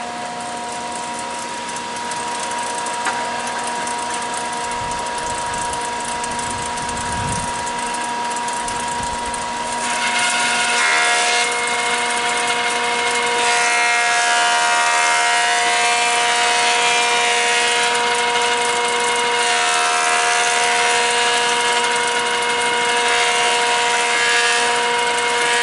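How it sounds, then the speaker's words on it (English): Thickness planer feeding a dried red oak board, a steady loud motor whine with a harsher cutting roar rising partway through as the blades bite, continuous and close. "First pass, it's only planing here and there, but it's still knocking it down so it's straight."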